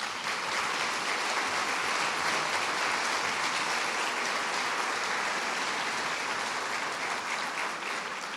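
A roomful of people applauds the teaching staff at an information session on postgraduate courses in electoral law, a dense, even roar of clapping sustained for over eight seconds without a break.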